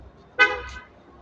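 A single short car horn toot at a house in a residential area, moderately close, with quiet background after it.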